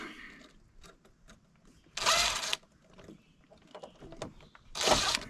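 Two bursts of a power drill driving strapping into place on a drain line, one around a half-second long and another shortly after, with quieter workshop clatter between them.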